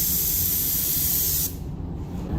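A paint spray gun hisses loudly and steadily for over a second, spraying base-clear coat on a 1960 Impala, then cuts off abruptly, leaving quiet room noise.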